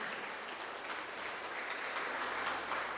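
A church congregation claps in strong, steady applause for Jesus, a dense continuous patter of many hands filling the room with no voices on top.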